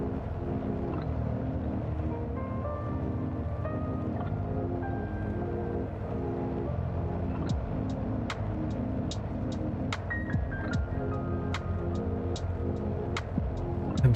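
Steady propeller-engine drone of a Tecnam P2006T twin during a run-up in a flight simulator, a constant loud hum running throughout with faint clicks and ticks scattered in the later part.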